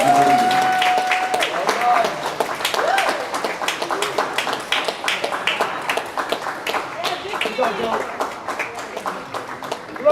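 Applause for awardees called up at a 2021 community awards ceremony, a steady patter of many hands clapping through the whole stretch, with talk and voices heard above it.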